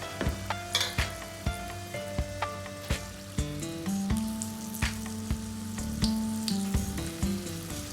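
Neyyappam rice batter frying in hot oil over a low-to-medium flame, a steady close sizzle broken by repeated clinks and scrapes of a ladle against the pan.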